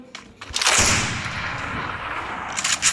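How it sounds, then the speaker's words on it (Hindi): Gunfire from an AWM sniper rifle in the mobile shooter Free Fire: a loud burst of shots swelling into a sustained roaring blast, followed by a few sharper cracks near the end. "चलो मैं AWM से लेता हूँ, देखते हैं स्नाइपर चला पाती है नहीं"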